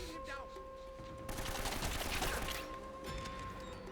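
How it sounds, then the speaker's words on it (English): Rapid gunfire in the video game Uncharted: Drake's Fortune comes as a dense burst of shots aimed at the player, rattling over steady game background sound, with a faint voice underneath. "You got shot at."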